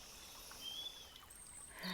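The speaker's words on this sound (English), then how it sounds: "It's the sound of the water" A stream flows and trickles steadily with a soft continuous rush, joined by a few faint high bird whistles.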